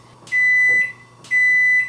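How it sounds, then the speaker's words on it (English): A microwave oven warming milk for flan gives two long, loud, steady beeps about a second apart, with a faint hum in between. "I actually do it in the microwave."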